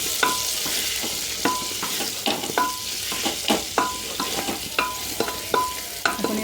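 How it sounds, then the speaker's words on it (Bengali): Ground turmeric and roasted coriander frying in a pan, stirred with a spoon that scrapes and taps the pan in a steady rhythm over a soft, continuous sizzle, close and without talk. "এটাকে ভালো করে একটু এর সঙ্গে মিশিয়ে নিচ্ছি।"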